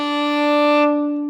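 A single violin note bowed with heavy bow weight, a loud, steady, rich-toned sustained pitch lasting just over a second, played alone.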